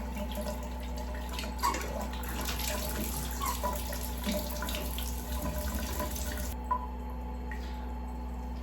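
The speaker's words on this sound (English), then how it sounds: "I'm going to run hot water through this a couple times" Hot tap water runs steadily through a glass piece during cleaning, a continuous close splash and trickle with small drips, over a low hum, with no voices.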